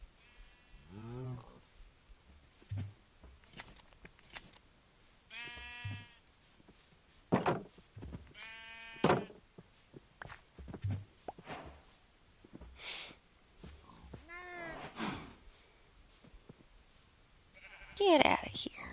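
Sheep in the video game Minecraft bleat again and again in short, wavering cries between stretches of someone talking, some calls louder and nearer than others.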